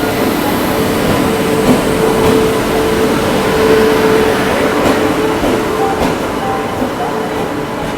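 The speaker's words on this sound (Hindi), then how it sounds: "फाइनली अपनी दुरंतो एक्सप्रेस आ गई है झांसी रेलवे स्टेशन के प्लेटफॉर्म नंबर 5 पर" A Duronto Express rolls into a platform at Jhansi railway station, a steady loud rumble of wheels and carriages with faint squeals and clatter, continuous throughout.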